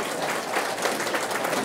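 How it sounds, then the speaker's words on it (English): Room of breakfast guests at an annual harvest event applauding local farmers, a brief, dense burst of clapping from many hands across the room. "So give them a big round of applause for all the things that they do."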